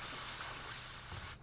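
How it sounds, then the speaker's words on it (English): A compressed air blowgun gives a short, close hiss as it blows grease into an old cable sheath, then cuts off abruptly. "I get my trusty blowgun out"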